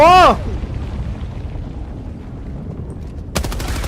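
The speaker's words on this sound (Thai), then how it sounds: "ถึงก็ระเบิดนิวเคลียร์ลงกันเลยทีเดียวเชียว" A nuclear strike detonates in the video game Helldivers 2, a loud sharp blast at the start that rolls into a long low rumbling roar, then a sudden burst of crackling noise near the end.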